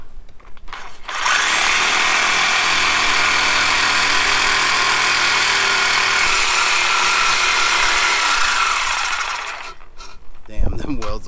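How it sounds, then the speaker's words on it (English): A reciprocating saw cuts through thick welds on a straight-pipe exhaust on a VW MK7.5 GTI, a loud, steady buzzing rasp running about eight seconds without break, with brief quieter handling noises before and after. "try and cut it with the sawzall now"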